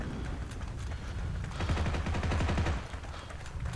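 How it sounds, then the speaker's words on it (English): Rapid rifle fire in a Heroes & Generals World War II battle, a dense crackle of shots from several guns aimed at a tank, steady and loud across the whole moment with a heavier low rumble midway. "Why would you shoot the tank with your rifles, my question."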